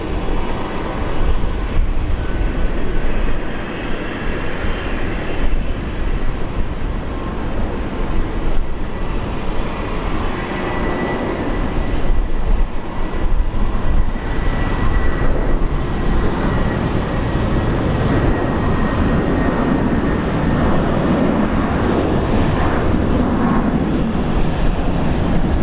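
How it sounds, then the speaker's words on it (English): A Jetstar airliner climbs out after takeoff from Brisbane International Airport, a continuous loud, broad engine roar holding steady for the whole stretch. "Jetstar is climbing up now."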